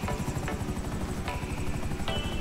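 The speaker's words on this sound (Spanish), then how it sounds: "No, bajé al helicóptero de la policía." Police helicopter in GTA V on PS3, a steady, loud rotor and engine drone filling the whole stretch with a few faint higher tones on top and no talking.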